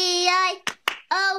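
Two sharp hand claps in quick succession in the middle of children singing the Bingo song, the sung voices before and after the claps.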